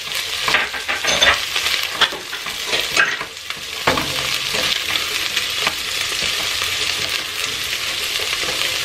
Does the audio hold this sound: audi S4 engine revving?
no